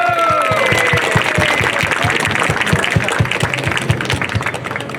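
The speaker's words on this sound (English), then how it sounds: "let's give him a big round of applause" An audience at an outdoor street-naming ceremony for Little Thailand Way in New York claps steadily for a speaker, dense sustained applause with rhythmic emphasized claps throughout, some voices faintly mixed in.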